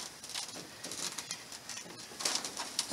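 Young racing pigeons coo softly in a loft after a 60 to 80 mile toss, low murmuring calls repeating over a steady hiss of background noise, with a brief flutter and louder bursts near the end.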